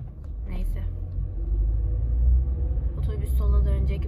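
A city bus idles and rumbles close behind a car in traffic, a steady deep low drone with brief higher noises, heard from inside the car under a talking voice.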